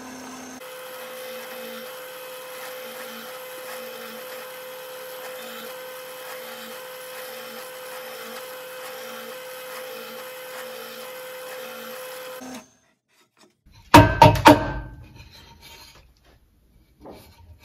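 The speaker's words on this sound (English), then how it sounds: "now that we have the plugs cut at the drill press" A drill press bores plugs out of scrap wood, a steady rubbing, rasping drone with a faint repeating pulse lasting about twelve seconds, then stopping, followed by a few loud knocks and rattles.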